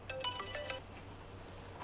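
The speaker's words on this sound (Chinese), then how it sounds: "我妈给我打电话" A mobile phone ringtone for an incoming call plays a quick bright melodic phrase, then fades into a softer tail, faint and alone.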